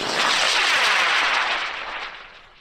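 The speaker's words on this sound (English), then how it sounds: "Good Sugar High, flying on a J-350, 11-pound rocket, going in 5, 4, 3, 2, 1." An 11-pound high-power rocket on a J-350 sugar motor lifts off at a launch event with a loud, broad roaring rush that holds steady, then fades as it climbs away, with no voices heard.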